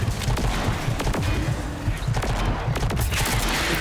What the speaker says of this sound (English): It makes the pistol go into burst mode.